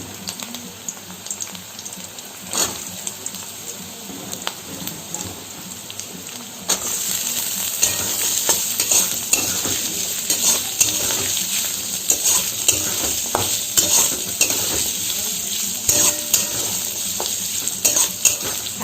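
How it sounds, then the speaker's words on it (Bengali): Potatoes cut into long strips hit a hot pan and are stirred while frying, a steady close sizzle that grows louder and denser partway through, with scraping stir strokes over it and no talking. "এবার আমি আলুগুলো দেব।"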